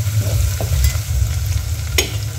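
Ginger-garlic paste sautéing in hot oil in a pan for Maharashtrian masale bhaat, a loud, close, steady sizzle with a deep low rumble beneath and a couple of sharp utensil scrapes.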